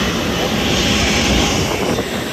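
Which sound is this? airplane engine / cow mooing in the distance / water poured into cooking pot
airplane engine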